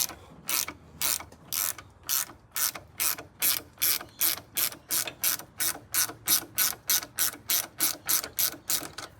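A ratchet wrench loosening a tight brake line on a car, with a steady run of about two dozen sharp, evenly spaced clicks, close and clear with no talk.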